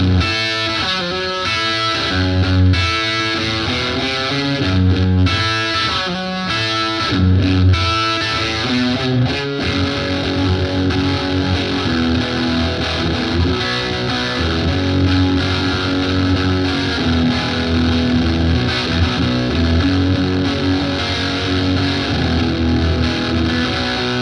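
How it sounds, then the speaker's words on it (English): Heavily distorted electric guitar through a ProCo RAT distortion pedal pushing the amp into fuzz plays chunky riffs and sustained chords, loud and fuzzy, continuing for over twenty seconds with no talking. "now I've set up the ProCo RAT to push the amp a little more and to provide extra distortion"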